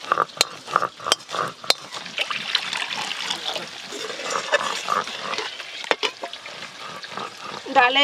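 Thick cooked lentil dal is poured from a pot into a pan in a home kitchen, giving a continuous wet, sloshing trickle with a few sharp clinks of metal, close and fairly loud for about eight seconds.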